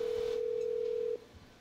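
A steady electronic phone tone in GTA 5 sounds for about a second, then cuts off abruptly, leaving a quiet background.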